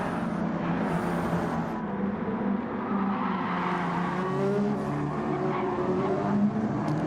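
Sim racing race car engine held in 6th gear through the fast 130R corner, a loud, sustained high-revving whine with a faint tire squeal, steady and close throughout.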